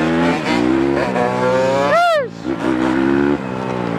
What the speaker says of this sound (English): this Chinese pit bike sucks